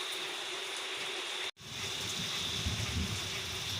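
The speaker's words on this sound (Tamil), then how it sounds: "அரை மணி நேரம் ஆச்சு மழை ஆரம்பித்து." Steady rain falling outdoors as a continuous, even hiss with a fairly low, moderate level, broken by one brief dropout midway, then resuming with a slightly fuller rumble underneath.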